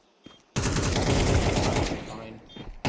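Sustained rapid automatic gunfire in a Counter-Strike match: a short burst, then a loud continuous spray of shots lasting over a second, with a few isolated shots before and after.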